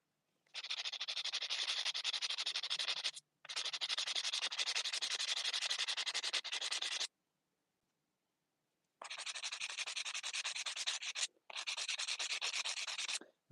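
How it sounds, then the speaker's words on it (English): Sanding small ceramic teapots to smooth a broken spot: steady, close scratchy rubbing in four long bursts separated by short pauses, with no voices. "I'm sanding mini teapots, Toby."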